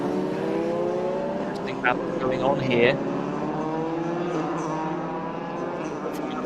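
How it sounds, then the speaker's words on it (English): Several Formula 4 race cars run past on a circuit during a race, engines droning and layering steadily as they close in and pass, with a commentator's voice talking over them throughout. "Formula 4 cars in this group."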